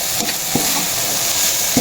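Banana blossom sautéing in a pan, a continuous sizzle broken by a few soft scraping stirs of a utensil, close and without talk.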